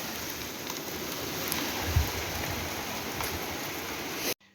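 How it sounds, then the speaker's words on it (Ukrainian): Hail pelting down steadily outdoors in spring, a dense even hiss of many small impacts with a brief low thump near the middle before it cuts off. "Такий град падає, як горох."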